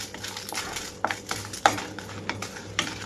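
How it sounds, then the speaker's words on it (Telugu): Dried red chillies fry in about two tablespoons of hot oil, with a soft sizzle beneath repeated close clinks and scrapes of a spoon stirring the pan, sounding alone without talk. "ఇక్కడ ఆయిల్ అంతా హీట్ అయిన తర్వాత ఎండుమిరపకాయలు వేసి వేయించుకుంటున్నాను"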